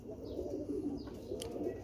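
A Rampuri pigeon gives a brief, soft, low cooing call, quiet and close by, with faint chirps in the background.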